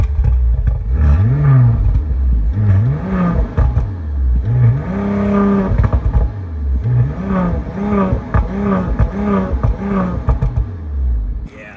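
Audi RS5 hybrid, 650 horsepower with quattro all-wheel drive, revving loudly up close in several repeated rising and falling bursts, engine whir climbing and dropping over about twelve seconds.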